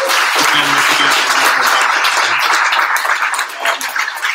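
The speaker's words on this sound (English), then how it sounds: "let's give a round of applause to the panelists again" A room full of people applauds the panelists at a public policy event, with loud, dense, sustained clapping close by that continues evenly before thinning slightly at the end.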